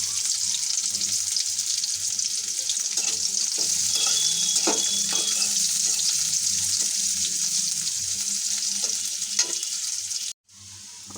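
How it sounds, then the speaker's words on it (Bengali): Crushed garlic and plenty of onion fry for a tempering, with a steady bright sizzle and occasional stirring scrapes, close and continuous, before a brief cut near the end. "আমার এই যে ফোড়নের পেঁয়াজ রসুনগুলো প্রায় ভাজা হয়ে গেছে"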